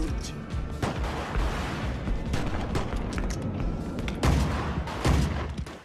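Gunfire in the video game GTA, dense bursts of shots and booming blasts crowding the whole stretch, loud and close, with heavier surges near the end.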